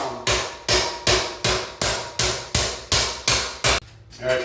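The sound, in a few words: ball peen hammer striking metal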